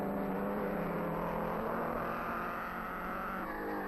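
1930s Mercedes and Auto Union racing cars roar steadily around a fast circuit, a sustained loud engine drone with a slight whirring edge and no voices.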